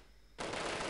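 Sudden burst of sustained automatic gunfire in the Delta Force video game, loud and dense after a moment of quiet.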